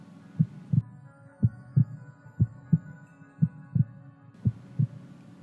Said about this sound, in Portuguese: de onde partiam os batimentos cardíacos